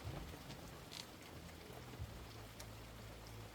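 Heavy rain hisses steadily on a rural house near a bamboo grove, with a faint low engine-like hum running beneath it and a few scattered drips and taps. Nobody speaks.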